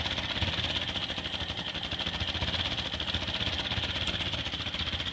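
A Ford 8N tractor engine, freshly installed and running without a gas tank, idles in a steady, even rumble with a light rattling pulse throughout, close up and with no voices.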